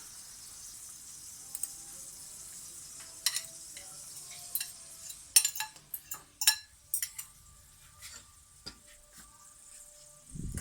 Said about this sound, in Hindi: यहाँ पर मैंने 1 चम्मच ऑयल का लिया है, और इसमें मैं अब डालूँगी चिकन जो कि मैंने मैरिनेट किया था।